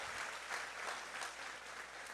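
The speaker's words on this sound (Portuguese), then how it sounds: "Vamos dar um aplauso bem forte ao Senhor." A church congregation at a Pentecost Sunday service applauds together, a dense, steady wash of clapping that sounds quiet and distant.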